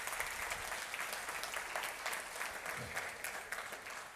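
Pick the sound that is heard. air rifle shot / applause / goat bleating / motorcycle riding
applause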